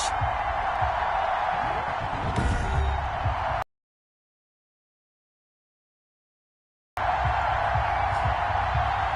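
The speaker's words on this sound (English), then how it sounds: "a rain-soaked Ben Roethlisberger, greeted by this sold-out Heinz Field crowd" A sold-out stadium crowd at Heinz Field in the Madden NFL 21 game makes a steady distant roar and murmur, broken by several seconds of complete silence before the crowd noise resumes.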